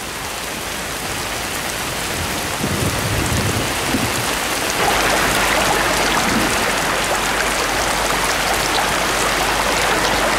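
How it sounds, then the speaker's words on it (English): Torrential mountain rain pours steadily, a dense, loud hiss of water on the land that swells and thickens midway, with no voices. "Torrential rain soaks the land,"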